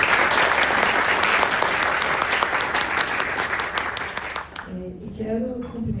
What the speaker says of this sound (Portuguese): Então, peço uma salva de palmas para eles.